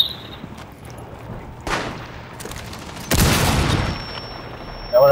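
Gunfire in Rainbow Six Siege: a few scattered shots, then a loud sustained burst near the middle that lasts about a second and a half, with another sharp burst at the very end.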